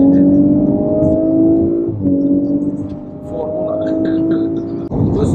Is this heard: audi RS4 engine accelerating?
yes